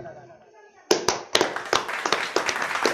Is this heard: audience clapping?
yes